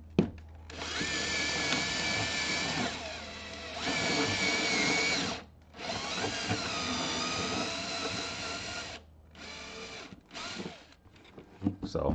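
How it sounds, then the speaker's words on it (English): A power drill with a 3/4 inch bit whirs steadily through an ice chest cooler in long bursts, pausing briefly between runs, close and loud with a low background hum. "So now I can drill my hole."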